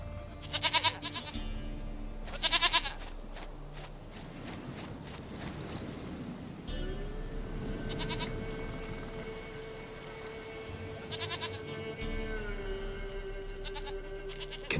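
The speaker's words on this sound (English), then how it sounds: "Goat of mine, dearest, sweetest goat." Goat bleats from the video game The Witcher 3, a few loud, close cries spaced over a steady drone of game ambience and music.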